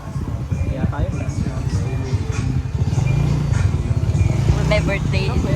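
A motorcycle engine drones steadily while riding along, a close, rough mid-pitched hum that rises slightly partway through, with voices talking over it.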